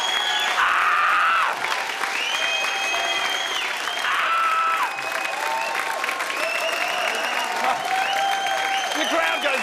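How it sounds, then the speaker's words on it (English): A concert crowd of fans breaks into loud, sustained applause with scattered cheers and whistles, a dense clapping roar that holds steady for several seconds, close and enveloping. "The crowd goes wild."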